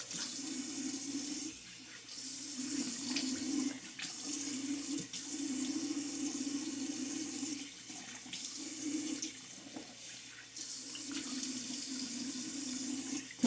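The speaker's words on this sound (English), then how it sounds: "I'm just taking handfuls of water and splashing it on my face" Water from a running sink tap is splashed onto a face in handfuls, making steady close splashing and trickling with brief pauses between scoops, and no one talks.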